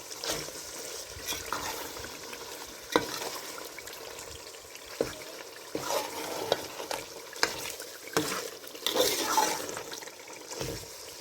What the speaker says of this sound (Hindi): अब इनको मैं मिक्स करूँगी।